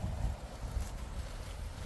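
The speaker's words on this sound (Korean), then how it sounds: "바람이 계속 불어 또." Strong autumn wind gusts across a cabbage field damaged by the gale, a rough, low buffeting roar that rises and falls with the gusts.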